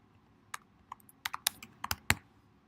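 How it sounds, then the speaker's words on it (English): Quick, light keystrokes on a computer keyboard, about a dozen irregular clicks close up in a quiet room. "So I'm going to do that by typing in my student account,"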